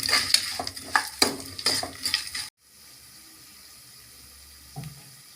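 Lentils roasting in a pan for a snake gourd kootu are stirred with quick scraping, sizzling strokes for a couple of seconds, followed by a low, quiet background with one faint clink near the end.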